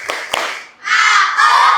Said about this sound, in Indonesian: Coba Pak Yasir cek dulu semangatnya dengan tepuk anak soleh.